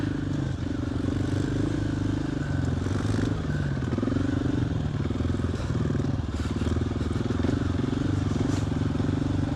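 Motorcycle riding a mountain trail, a steady close engine drone with small throttle changes and faint clattering, continuous throughout without talk.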